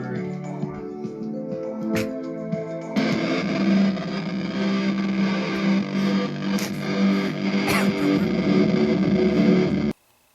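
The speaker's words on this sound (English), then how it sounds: "I plugged a computer into a guitar pedal, specifically a very ridiculous distortion guitar pedal" A computer's sound signal run through an extreme distortion guitar pedal into an old bass amp gives a dense, buzzing, saturated drone that thickens partway through, stays loud and steady, then cuts off abruptly.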